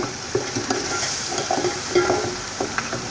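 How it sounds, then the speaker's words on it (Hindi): Marrow shanks (nalli) fry with ginger garlic paste in a pan, a steady close sizzle broken by the scrape and clink of stirring. "ये नलियाँ इसमें डालकर और 2 से 3 मिनट के लिए इसकी भुनाई करेंगे अदरक लहसुन पेस्ट के साथ"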